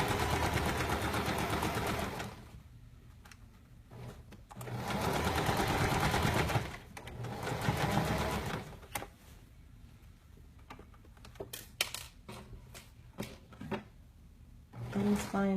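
A sewing machine stitches the arm seam of a dress in loud bursts of rapid whirring, broken by pauses filled with clicks and handling noises.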